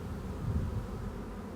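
Honeybees on a beehive frame make a dense, continuous low buzz. It is close and steady over a short moment.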